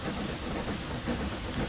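A steam locomotive, a 7F on the Somerset and Dorset line in Train Sim Classic, blowing off steam as a steady, loud, continuous hiss with no voices.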